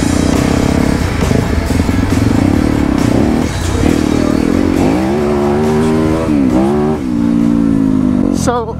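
Motorcycles climbing a mountain trail toward Santiago Peak, loud close engines droning and revving with rising and falling pitch, with a voice talking partly under the engine noise.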